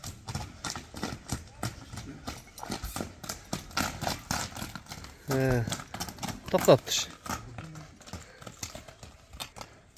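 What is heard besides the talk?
horse hooves clip-clopping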